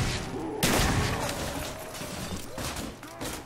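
Loud, dense gunfire in Call of Duty Black Ops Zombies on the Pentagon map: a sudden heavy burst followed by continued rapid shots, with a voice speaking over the shooting.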